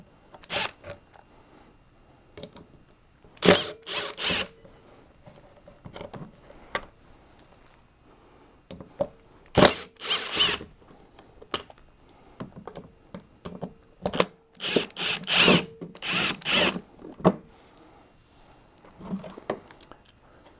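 Power driver backing out Torx T20 screws holding the fuel tank bezel on a 2005 Jeep TJ, heard as short bursts of whirring and clicking spaced by quiet gaps.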